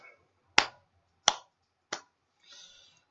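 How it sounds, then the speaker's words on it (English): Three slow, deliberate hand claps ring out close and loud at even intervals, each sharp and isolated against silence, followed by a faint softer rustle. "The slow clap."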